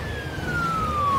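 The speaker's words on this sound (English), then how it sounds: "Or not a fire truck, an ambulance." A wailing ambulance siren in the city-building game SimCity, a single steady tone gliding slowly downward, loud and continuous over a low rumble of traffic for the whole moment.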